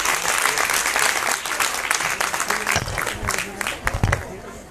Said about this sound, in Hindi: कृपया जोरदार तालियों से मेहरावना के इन बच्चों का यहां पर स्वागत किया जाए